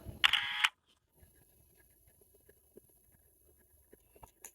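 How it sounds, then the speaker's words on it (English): A phone camera gives one short, crisp shutter click near the start, followed by faint handling rustles and soft taps in an otherwise quiet room. "you can see me pressing the shutter, or rather the snap, the capture button on my phone without making any mistakes"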